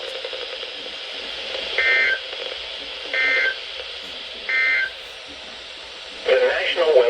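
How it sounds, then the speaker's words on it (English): Emergency Alert System tones for a tornado warning: three short, loud two-tone electronic bursts evenly spaced about a second and a half apart, then a harsher warbling tone starting, over a faint background broadcast hiss. "Tornado warning."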